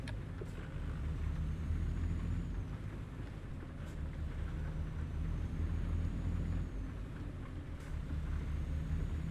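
A heavy truck's diesel engine pulls away in first gear after a shift down from seventh, a steady low rumble filling the cab on a winter highway in Colorado and Utah, with brief clicks over the drone.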